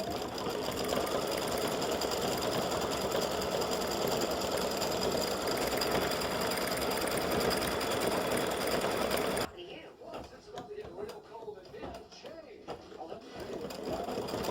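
Embroidery machine stitching a four-leaf clover design: a dense, steady rapid mechanical whir that runs for about nine seconds, then stops abruptly, leaving quieter handling clicks and a voice speaking.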